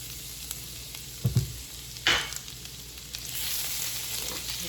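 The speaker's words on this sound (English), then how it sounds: "to this pan, I've gone in and I just added a little bit of grapeseed oil and unsalted butter" A tablespoon of garlic sizzles in grapeseed oil and unsalted butter in a pan, a steady, close crackle with a few clinks and stirring scrapes along the way.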